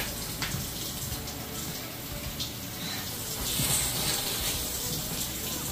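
Water runs steadily from a bathroom tap in a house, a constant broadband rush that swells a little louder toward the end, heard alone without talk.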